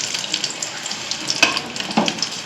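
Chicken pakoras bubble and hiss in hot oil as they are turned over, a close, steady crackle with a few brighter spurts.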